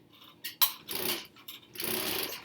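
A domestic sewing machine stitches a quilt block during paper piecing, running in two short bursts of rapid mechanical whirring, the second one longer, with soft handling clicks between them.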